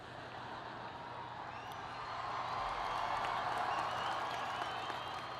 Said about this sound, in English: that shouldn't get such a big cheer